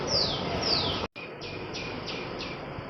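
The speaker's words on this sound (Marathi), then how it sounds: "चिमण्या वगैरे पक्षी चिवचिव करतायत आवाज येतो" Rapid high chirps of sparrows and other birds repeat at a steady pace over a constant hiss of rain or background noise, the birdsong fairly close and clear.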